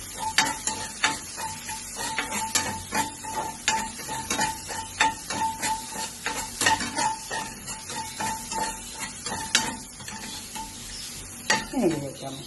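Ginger and garlic fry in hot oil in a pan, a steady close sizzle broken by repeated clinks and scrapes of a spoon stirring against the metal.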